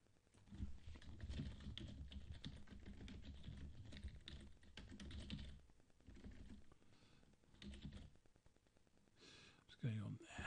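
Keys clatter on a computer keyboard in quick irregular bursts, close and fairly quiet, with short pauses between runs of typing and a brief breathy sound near the end.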